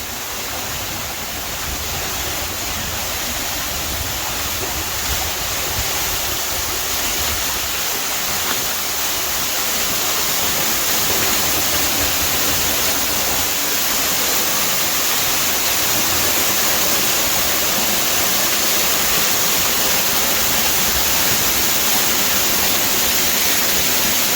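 An underground waterfall inside a mine roars as a steady, loud wash of rushing water that fills the whole stretch without pause.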